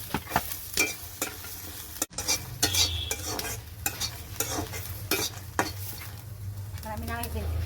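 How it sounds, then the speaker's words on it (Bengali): Dried chillies and garlic frying in a pan while being stirred for a kalo jeera and eggplant bharta, a steady low sizzle under repeated scraping and clinking of a utensil against the pan. "এখন আমি শুকনো মরিচটা বেজে নিচ্ছি,"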